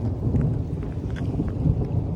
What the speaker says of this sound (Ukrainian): І починається дощ